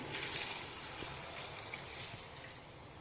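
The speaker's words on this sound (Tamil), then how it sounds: "தண்ணி ஊற்றிக்கலாம்." Water pours steadily into a pressure cooker holding spinach, turmeric, sambar powder and dissolved tamarind, a soft continuous trickle and splash, close and quiet with no talking.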